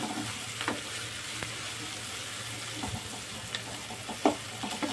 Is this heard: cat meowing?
no